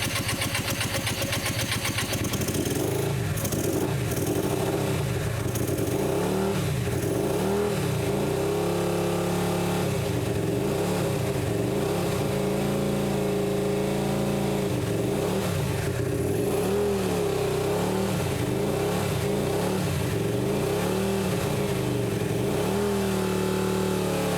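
A 125cc motorbike engine, newly restored after standing unused for two years, catches on its first start and runs loud and close, with an uneven idle broken by repeated rising and falling revs throughout.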